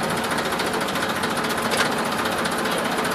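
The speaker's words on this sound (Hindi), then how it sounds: "ये ट्रैक्टर आगे बढ़ रहा है" A tractor engine runs steadily as the tractor moves forward in gear with the lift raised, a continuous loud rattling drone with no pauses and no voices.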